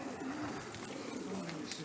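Racing pigeons coo softly at a loft while birds arrive from the south, the calls faint and repeated under a quiet outdoor background.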